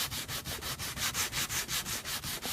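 Rhythmic back-and-forth hand sanding of a wooden prop in a prop shop, with steady strokes repeating about five times a second, close and fairly loud with no voices.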